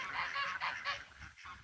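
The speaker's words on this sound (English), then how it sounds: "the really loud ones right now are our cotton patch geese" Cotton patch geese on a Louisiana pasture farm honk in a loud, repeated nasal chorus of several close calls.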